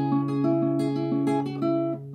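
Guitar playing a quick fingerpicked passage from a Chilean song, clear sustained plucked notes ringing over a low bass note, close and solo with no voice.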